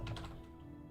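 Computer keyboard keys clatter in a few quick taps at the start and then trail off. The taps are close but quiet, with no voices.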